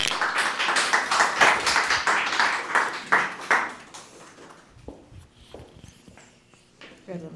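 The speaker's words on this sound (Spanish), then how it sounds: "Un aplauso para ella." An audience applauds for speaker Nayibe García Hernández at an academic talk, a burst of fairly close clapping lasting about four seconds before fading into scattered taps and a voice.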